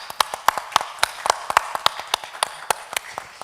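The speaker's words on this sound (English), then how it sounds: "Could we give him a round of applause?" Conference audience at a summit clapping, a sparse group applause of distinct, rhythmic claps close by, no talk over it.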